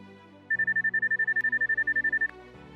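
A UIG Watch detector gives a rapid, evenly pulsed electronic tone, about twenty clean beeps in under two seconds, clear and close with a faint hum before and after.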